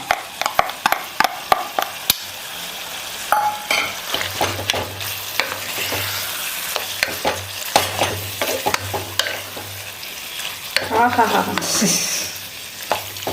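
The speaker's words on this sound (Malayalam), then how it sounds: "ചേർത്ത് മിക്സ് ആക്കണം." Lemon pickle with dates is stirred and mixed in a pan on the stove, with rapid spoon scrapes and knocks over a continuous frying sizzle and a brief voice near the end.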